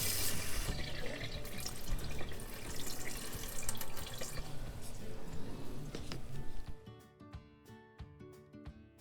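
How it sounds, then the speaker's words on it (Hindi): Tap water runs steadily over small sliced potato pieces being washed in a kitchen sink, a soft continuous splashing stream that stops partway and leaves scattered drips and light clatter. "इनको वॉश कर लेते हैं।"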